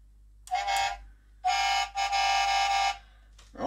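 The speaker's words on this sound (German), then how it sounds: "Dann haben wir einmal die Hupe, ja, wenn sie auch funktioniert." The electronic horn of an FDNY Tower Ladder 9 fire truck scale model blares in three bursts, a short blast followed by two longer ones, loud and buzzy with no talking.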